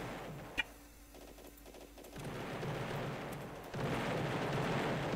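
Gunfire in a video game plays as a dense, continuous rattle of shots, with a sharp single crack near the start and a louder barrage later, fairly distant and muffled, with no talk.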